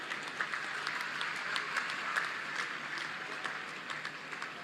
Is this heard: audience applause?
yes